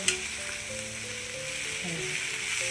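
Sliced okra (ladies finger) for a Kerala mezhukkupuratti fries over a full flame, giving a steady bright sizzle, with light scraping and clinking as it is stirred in the pan. There is no talking.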